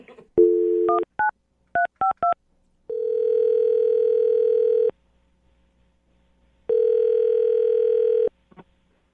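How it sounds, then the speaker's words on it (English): Landline phone call: a quick run of touch-tone dialing beeps in uneven bursts, followed by two long, steady ringback tones separated by a pause, all clean and close with no talking. "we'll dial the phone number right now and see if we can get him on the phone"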